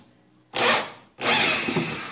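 An electric screwdriver backs screws out of a washing machine casing, two loud close whirring bursts: a brief spin that winds down, a pause, then a longer sustained run.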